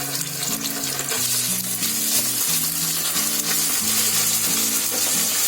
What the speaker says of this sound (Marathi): कांदा आलं लसूणची पेस्ट एकदम मस्त फ्राय झाली आहे.